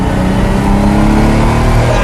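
A Lamborghini Miura's engine roars close and loud, a dense sustained revving growl with a steady low rumble across the whole brief moment.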